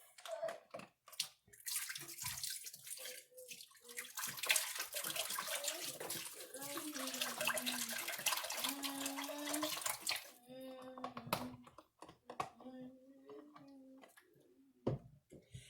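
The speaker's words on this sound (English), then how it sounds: "now I'm going to pour some of this chicken broth into the pan" Chicken broth pours into a turkey roasting pan in a home kitchen, a continuous splashing liquid stream lasting several seconds, close and clear, followed by intermittent trickles.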